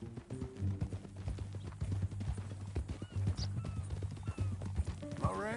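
Horse hooves clip-clop steadily on the ground in the Red Dead Redemption 2 video game, a continuous close rhythm of hoof strikes over a low rumbling background with a faint snort.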